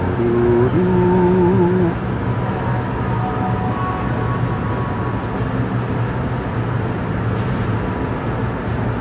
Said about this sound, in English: listen to those chimes and the traction motors